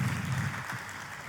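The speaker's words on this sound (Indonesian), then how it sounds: "Lebih dahsyat lagi tepuk tangannya bagi Yesus Tuhan." Church congregation clapping for Jesus during a service, a broad continuous wash of applause with a low hum of room sound beneath it.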